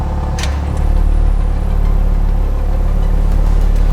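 A 2018 Audi RS5 engine idles while parked, a steady low mechanical hum that runs continuously and evenly at moderate level, with a brief higher rattle near the start.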